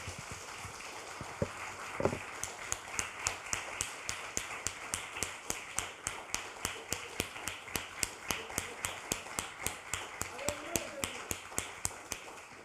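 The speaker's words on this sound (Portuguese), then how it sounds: "as nossas palmas são para Ele" A church congregation applauds in praise during a Bible study on Colossians, a steady rhythmic clapping at an even beat, fairly close and moderately loud, with a few brief voices underneath.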